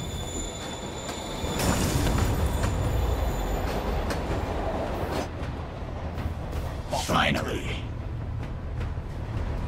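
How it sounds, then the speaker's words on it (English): Train rolling through a rainy station in the Spider-Man Remastered video game, a steady rumble with wheel squeal and clatter, loud and close, with a brief voice and game effects over it. "Train's moving."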